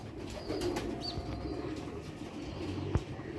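Ferozpuri pigeons coo in low, soft, continuous murmurs, with a faint chirp near the start and a single sharp tap near the end, no voices.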